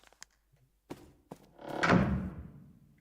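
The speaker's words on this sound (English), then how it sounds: "The lion door." A heavy lion door opens in the game The Tartarus Key, with a few small clicks and thunks before a long grinding rumble that swells and fades over about a second and a half, close and without speech.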